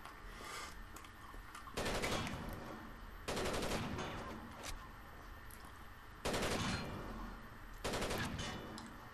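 Heavy machine gun fire in Rainbow Six Vegas 2, faint background shooting punctuated by four louder bursts of rapid automatic fire spaced a couple of seconds apart.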